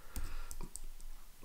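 Sharp computer mouse clicks at a desk while working in Microsoft Stream, a few quick dry taps close to the microphone over faint room noise.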